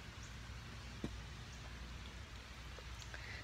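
Rain falling outdoors at a school: a steady, even hiss of rainfall with scattered patters of individual drops, heard faint and continuous throughout.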